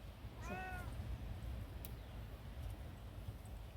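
A single short meow from a cat rises and falls once early on, then only quiet background noise continues.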